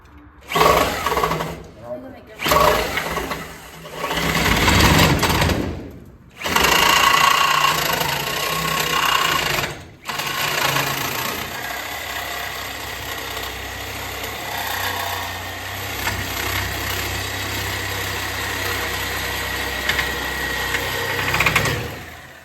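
In a shop, an engine is cranked in a few rough bursts with short pauses between them, then catches and settles into a steady low idle. A person talks over the noise.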